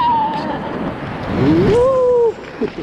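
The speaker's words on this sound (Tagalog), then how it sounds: "Ayan yung alon guys. Ayan o." Ocean surf rushes at Baler beach in Aurora, Philippines, during a beginner surf lesson. A broad, close wash of breaking water and wind runs throughout, with excited voices and a rising whoop over it.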